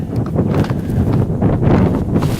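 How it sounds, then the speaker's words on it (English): Strong gusting wind buffets the microphone outdoors at a shooting range, a loud, continuous low rumble with surging swells and no voices. "This wind is just gnarly today, I'm not gonna lie."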